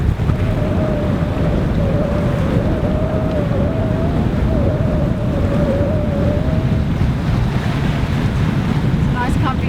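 Ocean waves rush and slosh around a sailboat under way in rolling seas on the way to Anzio, a loud continuous wash mixed with heavy wind buffeting the microphone and a thin whine partway through.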